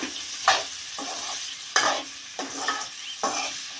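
Chopped vegetables are stir-fried in a pan with about six distinct scraping stirs over a continuous close sizzle, and no one speaks.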